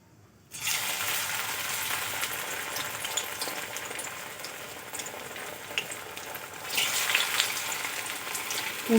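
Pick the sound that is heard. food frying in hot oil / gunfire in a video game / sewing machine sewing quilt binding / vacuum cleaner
food frying in hot oil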